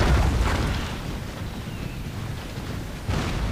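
A deep rumbling boom fills the clip, a sustained low roar of a cannon shell explosion in the video game Empire: Total War, with a second burst near the end, no voices.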